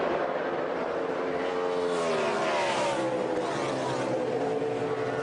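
NASCAR stock cars race around a track, engines whining and sweeping in pitch as they pass, a continuous layered roar at moderate distance.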